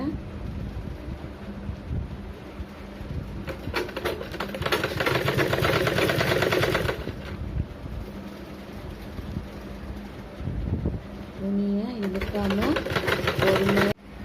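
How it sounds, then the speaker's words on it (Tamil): Sewing machine stitching blouse fabric at a cross-piece neckline, its motor running in steady bursts of rapid whirring, loudest in the middle stretch, with pauses and faint background noise between runs. "துணியை இழுக்காமல் பொறுமையாக வச்சு தைங்க."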